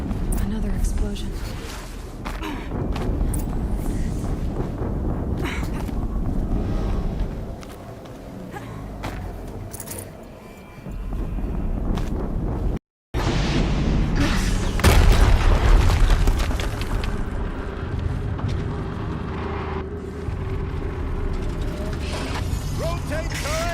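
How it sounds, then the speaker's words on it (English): Explosions in the Horizon Zero Dawn video game boom over a dense, busy game soundscape, with heavy mechanical clanking and ratcheting, a sudden drop to silence midway, then a loud deep blast. "Another explosion."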